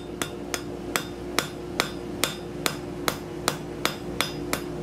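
Hammer blows forging a bevel on the tip of a hot steel leaf scroll, a dozen sharp, evenly spaced ringing strikes in a steady rhythm, close and clear over a faint background hum.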